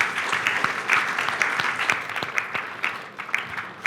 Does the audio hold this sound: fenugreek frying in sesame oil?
no